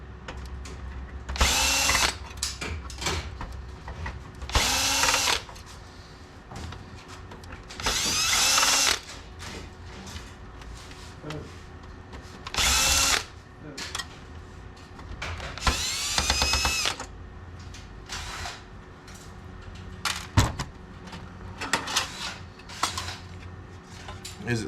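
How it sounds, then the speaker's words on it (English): A power drill whirs in short, sharp bursts while backing screws out of a scrap printer. Quieter clicks, rattles and handling noises fill the gaps between the bursts. "So we can take some screws out over here."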